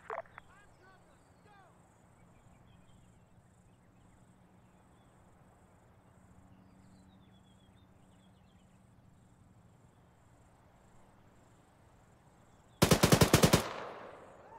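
A close, loud burst of machine gun fire rips out in a military combat game set in Chernarus, arriving abruptly after a long quiet stretch filled with steady cricket chirps and faint ambience.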